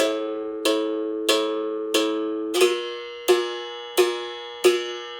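A berimbau struck in a steady pattern of eight even strokes, the first four ringing open with a clear sustained tone and the last four closed with a buzzier, brighter twang, close and alone.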